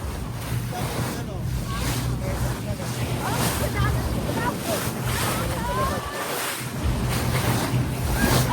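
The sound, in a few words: sea waves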